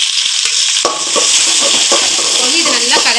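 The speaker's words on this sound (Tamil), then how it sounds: "அடுத்து வந்து 2 பச்சை மிளகா, இப்போ வந்து வெங்காயம் கொஞ்சம் போட்டுக்கலாம்." Chopped onions and green chillies hit a hot pan and burst into a loud, close sizzle, with a scraping stir and a brief voice near the end.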